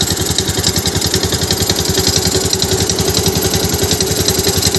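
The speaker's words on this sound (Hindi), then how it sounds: "अभी देखो इसमें चिक चिक चिक आवाज़ आता होगा" A motorcycle self-starter with a bent bendix gear makes a loud, close, rapid chattering grind, its evenly spaced mechanical pulses running nonstop without any voices.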